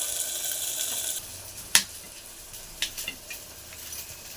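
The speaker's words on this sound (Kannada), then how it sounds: "ಬೀನ್ಸು, ಗೋರಿಕಾಯಿ, ಕ್ಯಾಪ್ಸಿಕಮ್ಮು ಇವಾಗ ಇದಕ್ಕೆ ಹಾಕ್ಕೊಂಡಿದ್ದೀವಿ. ಸೊ ನೀಟಾಗಿ ಫ್ರೈ ಮಾಡ್ಕೊಳ್ಳೋಣ ಫ್ರೆಂಡ್ಸ್." Beans, cluster beans and capsicum frying in a pan, a soft steady sizzle with a few sharp pops and crackles, close and fairly quiet, no talking.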